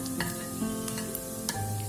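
Mustard seeds, lentils, fenugreek and cumin sizzle steadily in hot oil for a homemade vegetable sambar, with a spoon stirring and scraping through the pan several times, close and continuous.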